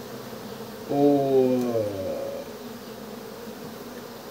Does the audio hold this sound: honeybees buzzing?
yes